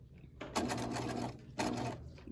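A sewing machine runs in two short stitching bursts, sewing the fabric of a bucket hat up to the pins, faint and close.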